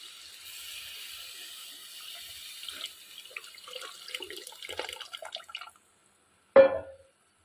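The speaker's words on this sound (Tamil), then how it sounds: "இப்போ புளி தண்ணி ஊற்றிக்கலாம்" Tamarind water is poured into a pot of fish curry in a home kitchen, a steady splashing trickle for several seconds. The pour stops, and after a brief silence a single sharp metallic clink rings out.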